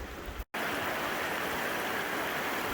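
Steady rain falls close by on a hike near Byron Glacier, a dense, even hiss of drops that holds throughout apart from a brief dropout near the start.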